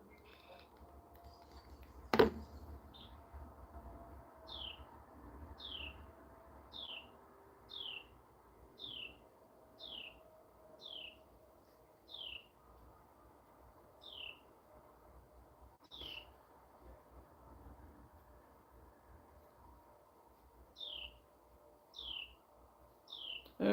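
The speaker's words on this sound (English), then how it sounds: "oh, the birds are singing this morning" Birds sing in the countryside on a quiet morning, a repeated short bright chirp phrase returning every second or so from a moderate distance, with a faint household background and one sharp knock near the start.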